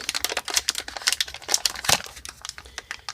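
A resealable plastic package of new LED replacement bulbs is handled up close, giving dense, continuous crinkling and crackling with sharp bursts throughout, loud and without talking.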